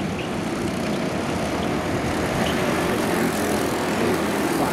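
A Honda Cadet racing kart at Whilton Mill passes by during a race heat, its small engine giving a steady, loud droning buzz throughout with no obvious rise or fall, no voices over it.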